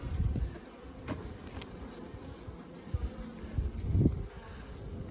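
Worker bees buzz around beehive frames full of partly capped honey, a close, continuous droning hum that swells and fades as individual bees pass near, with a few brief knocks from handling the frames.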